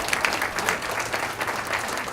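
Audience applause at a county awards luncheon, a short, lively burst of many hands clapping close by, with distinct sharp claps over a dense wash for about two seconds.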